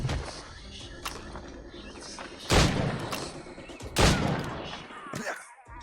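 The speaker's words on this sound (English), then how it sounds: "Ready to open fire!" Gunfire in Assassin's Creed Rogue as a crew opens fire: a steady crackle of shots with two loud, booming volleys standing out against the background battle noise.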